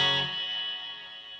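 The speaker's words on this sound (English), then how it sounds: "Turn the reverb on." A Fender Telecaster strummed once through a Sonicake headphone amp with spring reverb on, a loud chord ringing out and decaying into a long, springy reverb tail.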